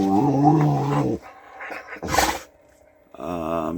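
A dog lets out loud, growling, roar-like barks near the listener outdoors on a hike after a thunderstorm, with a long harmonic bark, a short burst, then another bark after a pause.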